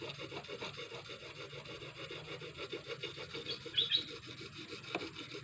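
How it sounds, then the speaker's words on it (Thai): Steady rhythmic rasping strokes of a rubber-tapping knife blade rubbed back and forth across a sharpening stone, close and fairly quiet, with no talking. "ถูรับมีดต่อ เสียงจะเปลี่ยนนะครับ"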